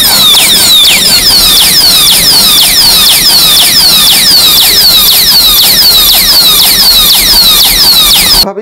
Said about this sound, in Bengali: এটাতে যদি আমি হাত দেই দেখুন অ্যালার্ম বাজতেছে